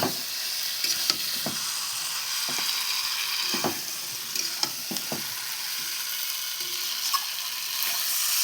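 Chicken sautés in a pan with a continuous hiss of frying, punctuated by regular sharp clicks and scrapes of a utensil stirring the meat.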